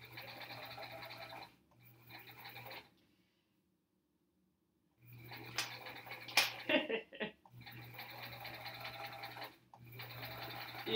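Sewing machine chain piecing a quilt block, running in steady bursts with brief pauses and a silent gap between runs, plus light clatter near the middle.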